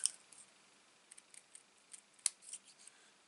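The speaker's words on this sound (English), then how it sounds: "There we go, I can snip into there now." Scissors make faint, delicate snips into a paper card in a quiet room, a scattering of small, close crisp cuts.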